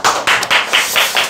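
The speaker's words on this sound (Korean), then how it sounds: "박수 한번 치시고요" An audience at a stock-investing lecture gives a brief round of clapping, a loud, close burst of many hands in a few rhythmic surges lasting just over a second.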